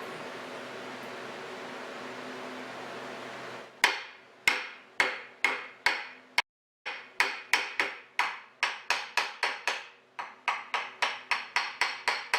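Sharp metallic taps strike a bushing to seat a polishing wheel on a Diamond Pacific Titan gem-making machine. After a soft whirring hum fades, about twenty quick, evenly spaced raps follow with one short pause.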